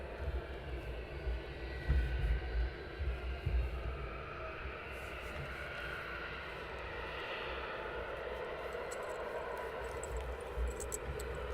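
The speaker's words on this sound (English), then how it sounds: "So the first Ryanair's for the day" Ryanair airliner on the first flight of the day at Luton Airport, a broad distant engine roar that swells and holds steady throughout.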